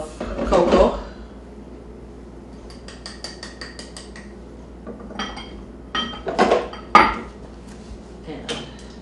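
Kitchen clatter of containers and utensils being picked up and set down while baking with flour and cocoa, with several separate knocks and clinks, a louder burst near the start and more scattered ones later, under quiet background noise.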